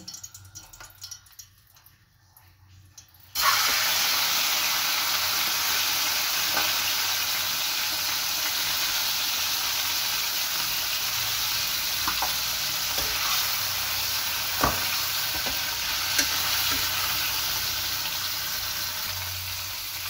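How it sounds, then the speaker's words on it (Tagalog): Chicken liver sizzling loudly in a hot pan for a Filipino higado dish, with a steady frying hiss that starts abruptly after a quiet moment, broken by occasional clicks and scrapes of stirring. "lutuin muna natin yung liver natin"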